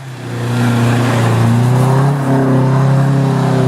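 A Nissan S14 doing donuts on a track revs hard and holds a loud, sustained engine roar close by, with the pitch climbing slightly and staying high, and no talking.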